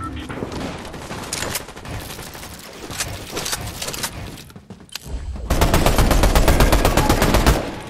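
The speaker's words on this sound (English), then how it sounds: "Did we just get sniped at?" Fortnite gunfire during a competitive duo cash cup match crackles in loud sharp bursts, sparser at first, then a dense rapid volley of shots late in the stretch, with faint voices under the shooting.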